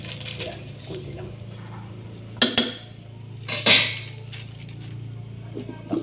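Metal clanks of a lid set back onto a cooking pot of tilapia sinigang with guava, two sharp clatters close by over a low steady simmering hum.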